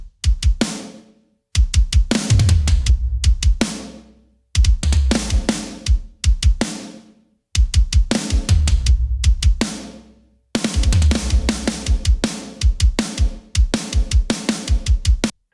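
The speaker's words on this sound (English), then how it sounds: "I'm going to go over to my shell bus and I'm going to add the ADC1" A compressed drum kit mix, processed on the shell bus with an ADC1 compressor, plays short punchy groove phrases separated by brief silent gaps, loud and up front.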